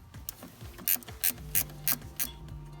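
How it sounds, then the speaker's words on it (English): A ratcheting box-end wrench with a pivoting head works a 12mm nut loose on a Subaru's throttle cable bracket, giving short bursts of sharp mechanical clicking in an uneven rhythm, close and fairly quiet, with no talk. "I like to use one of these ratcheting, box-ended wrenches that have a pivoting end"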